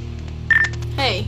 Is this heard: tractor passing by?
no